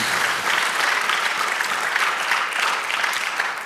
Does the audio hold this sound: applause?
yes